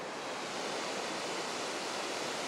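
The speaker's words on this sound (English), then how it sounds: "This is one of the few beaches that has a waterfall running down directly into the ocean" A waterfall pours directly onto an Oregon beach at Hug Point at low tide, producing a steady, dense hiss of falling water mixed with distant surf. The sound is uniform and continuous, with no voices.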